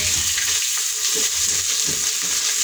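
Onions crackle and sizzle in a few spoonfuls of hot oil, a dense, continuous close-up frying hiss with faint stirring knocks underneath.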